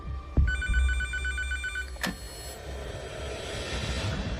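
An old-style telephone bell rings in one rapid trilling burst, then stops, leaving quiet background noise.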